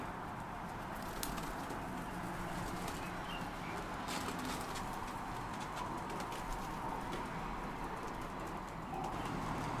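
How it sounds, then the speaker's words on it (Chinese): Pigeons coo steadily in a hot rooftop loft, a soft continuous murmur with scattered light flutters and taps throughout. "加菲的鸽子回来了。"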